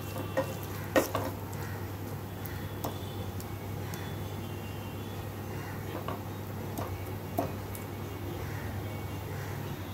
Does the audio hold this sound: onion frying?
yes